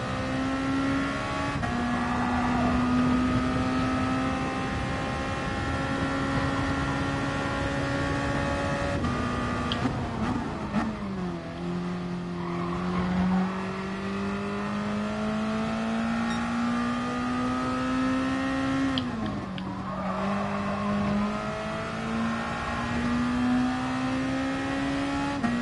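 Race car engine at full throttle in GT Sport: a loud, sustained high whine holds steady, dips briefly twice as gears shift, then climbs again with the revs, close and unbroken for the whole stretch with no talk.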